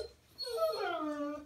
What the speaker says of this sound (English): Somebody must have just came home. Dogs are excited.